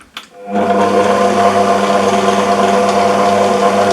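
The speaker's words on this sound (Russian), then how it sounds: "Замешиваю тесто любым удобным для вас способом. У меня планетарный миксер." A planetary stand mixer kneading sourdough dough whirs steadily after starting up abruptly, a loud, even motor hum with no pauses.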